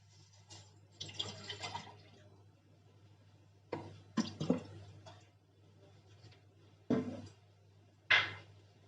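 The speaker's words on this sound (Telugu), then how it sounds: "1 గిన్నెతో మనం నీళ్ళు తీసుకుని పోసుకుందాము" Water poured from a bowl into a pot, a few separate splashy bursts and drips close by, with quiet pauses and steady low hum between them.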